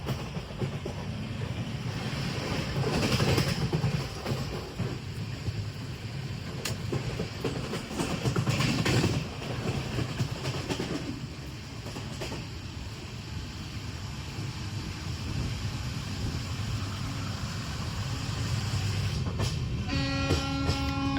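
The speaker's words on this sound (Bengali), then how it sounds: "এখন কোলাঘাট স্টেশন ঢুকছে।" A passenger train pulling into Kolaghat station in West Bengal, with a steady rumble and clatter of wheels on rails heard from on board and swelling and easing over time, and a brief horn-like tone near the end.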